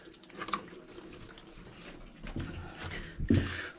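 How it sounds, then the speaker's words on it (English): Engine fluid draining from a Vauxhall Insignia into a container underneath during temperature sensor repair, a soft continuous splashing trickle with a few louder gurgling spurts, close by. "Fluid is draining."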